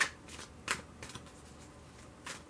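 Tarot cards being shuffled up close, with soft riffling bursts and flicks scattered through a quiet room and no talking.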